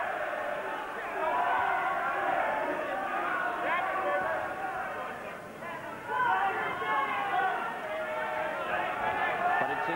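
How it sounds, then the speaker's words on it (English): A boxing crowd at Jeff Harding versus Dennis Andries in Hammersmith, London, sings encouragement in a broad, wavering chorus of many voices, fairly close and sustained throughout, with babble mixed in. "this crowd now singing its encouragement"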